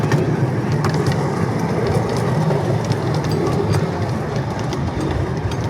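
A steady rumble of an old train at rest or moving slowly at a station, with low mechanical noise and occasional clanks, continuous and fairly loud.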